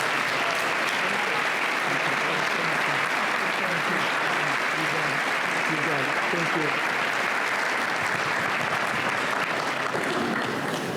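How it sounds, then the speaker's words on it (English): A round of applause fills the room at the Lawrence Partnership annual meeting and 10th anniversary, continuous, dense clapping from a large audience lasting the full stretch with some voices underneath. "So if you would please join me in giving them a round of applause."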